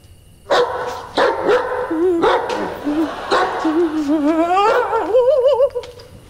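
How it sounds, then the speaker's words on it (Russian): A dog barks in a few sharp bursts, then breaks into a rising, wavering howl that grows longer and louder toward the end, close by, with no talk over it. "Наверное, собака воет."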